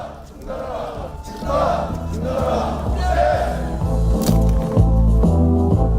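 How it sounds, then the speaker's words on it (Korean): Crowd at a metalworkers' union rally cheers and claps, a rising roar of voices and applause swelling over a loud amplified music or chant bed with strong low rhythmic beats. "힘찬 함성과 박수 보내주십시오."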